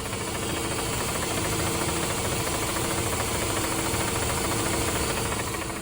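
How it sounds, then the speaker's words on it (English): A 2005 Mazda RX-8 with a six-speed manual and its rotary engine runs at a steady idle, a dense continuous hum with a slight rattling texture, close and constant throughout with no talking. "one last sound of the engine."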